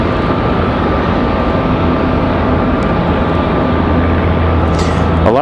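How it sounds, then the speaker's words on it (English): Alaska Airlines jet airliner at Raleigh-Durham airport, a continuous loud engine rumble with a steady whine, close and unbroken, with brief chirps near the end. "Alaska Airlines headed back to Seattle."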